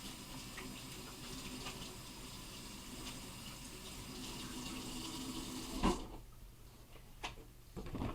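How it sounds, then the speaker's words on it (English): A kitchen tap runs steadily while hands are washed under it at a sink, a soft continuous water rush with a brief splash or clatter before it quiets. "Wash my hands off."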